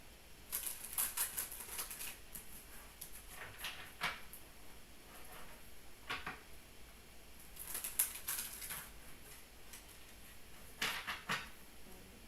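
Tarot cards are shuffled close up in short riffling bursts separated by pauses, each burst a quick papery flutter, fairly quiet with no voice.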